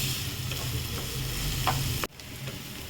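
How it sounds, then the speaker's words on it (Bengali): Onions frying in a pan and being stirred, a steady sizzle with scraping stirs, cut off abruptly near the end and then resuming more quietly. "এটাকে ভালোভাবে নাড়াচাড়া করে নেব। এটা একটু লাল লাল করে ভাজতে হবে"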